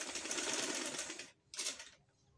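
A sewing machine stitching a ring sleeve, a fast buzzing run close up that stops briefly, then a short second burst before falling quiet.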